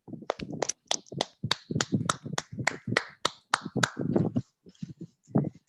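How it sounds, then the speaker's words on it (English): Applause for a debate team: a quick, evenly spaced run of sharp claps, fairly close and clear, tapering off with a few scattered final claps. "Let's clap for them."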